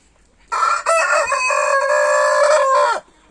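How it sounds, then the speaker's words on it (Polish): One of two roosters kept with a small flock of hens gives a single loud, close crow lasting about two and a half seconds, with a brief break early on and a quiet yard around it. "No teraz już są dwa koguty tutaj."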